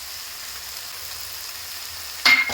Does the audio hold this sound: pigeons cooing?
no